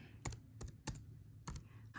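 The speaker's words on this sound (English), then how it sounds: "When I type it in, I need to make sure that I am typing it exactly as it is written." Keys on a computer keyboard clack in a few separate, sharp taps while someone types in an email account login, over a quiet background hum.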